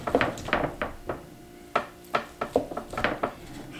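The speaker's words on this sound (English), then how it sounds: "Go ahead and chop it up." Poached chicken being chopped on a cutting board, a quick series of about a dozen sharp, close knife strikes in an uneven rhythm, with light clatter and no talking.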